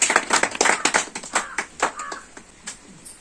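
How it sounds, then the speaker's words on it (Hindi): A small group claps in quick, uneven bursts, the applause close by and tapering off toward the end. "जोरदार तालियां हम सबके लिए।"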